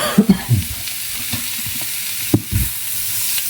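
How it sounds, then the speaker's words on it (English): Tofu fries with curry in a pan, giving a soft sizzle broken by a few sharp scrapes and clatters of stirring, heard close with no talking. "Fry this around a little."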